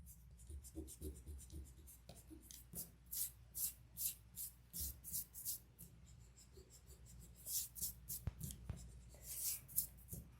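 A pencil scratches and an eraser rubs over a pencil drawing of a book in quick, close strokes, a steady run of short, soft scrubbing bursts with no talking.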